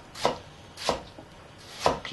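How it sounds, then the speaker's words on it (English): Three crisp knife chops dice a tomato on a cutting board with an Al Mar santoku, evenly spaced strokes about every 0.8 s, close and clean with no talking. "Quick way of dicing a tomato."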